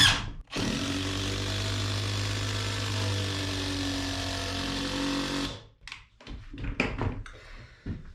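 A Craftsman brushless impact driver at top speed drives a 6-inch TimberLOK screw into pressure-treated wood with a loud, steady whine and hammering rattle for about five seconds, then stops, leaving a few short knocks.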